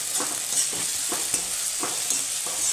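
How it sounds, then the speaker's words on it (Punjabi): Onions, tomatoes and green chillies fry in a pan with a steady close sizzle, broken by repeated scraping strokes of a spoon being stirred through them; no talking. "ਇਹਨਾਂ ਹੁਣ ਆਪਾਂ ਚੰਗੀ ਤਰ੍ਹਾਂ ਭੁੰਨਾਂਗੇ"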